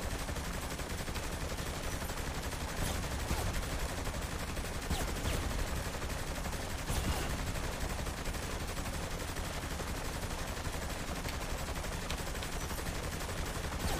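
Rapid gunfire from the open-world game Saints Row: The Third, a steady stream of shots and bursts running continuously over dense broadband noise, with no voices over it.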